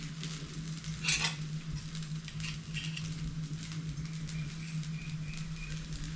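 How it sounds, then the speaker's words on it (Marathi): Butter sizzling as it melts onto a lacy, bubbly dosa on a hot griddle for a Davangere loni dosa, a steady low crackle and hiss throughout with a brief brighter spatter near the start. "आता आपण त्याच्यावरती बटर टाकूया."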